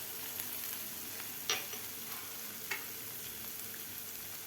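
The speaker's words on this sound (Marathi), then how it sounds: "डाळ सुद्धा आपल्याला व्यवस्थित परतून घ्यायची आहे" Dal sautéed in a pan with a faint, steady frying hiss, broken by a couple of brief spatula clicks against the pan; quiet and close, with no voices.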